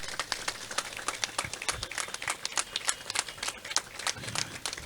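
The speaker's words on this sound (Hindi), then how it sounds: "जोरदार ताली हो जाए इनके लिए।" An audience claps enthusiastically at a national safety day campaign event, a dense crackle of many hands that rises and falls in waves, fairly close and with no voices over it.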